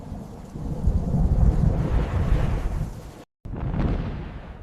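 Thunder from a monumental storm rolls in a deep, loud, sustained rumble, broken by a brief silent gap before the low rumbling resumes.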